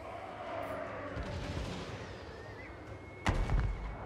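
Musket volleys and artillery in a Total War: Warhammer 3 battle make a dense, continuous crackle of distant shots, capped by a heavy, close cannon boom near the end.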